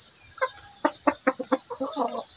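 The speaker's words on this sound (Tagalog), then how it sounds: "Ito, nagpapakain ako ng manok. Ayan yung mga manok natin." Backyard chickens cluck in quick rhythmic runs while being fed, close and clear against a faint background hum.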